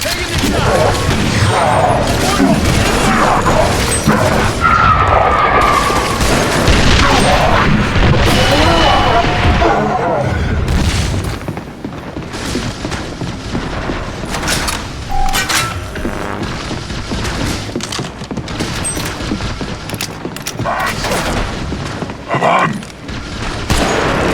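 Artillery explosions in the video game The Bureau: XCOM Declassified land as heavy booms and crashing blasts, densely packed at first and then thinning into scattered impacts and rumbling debris.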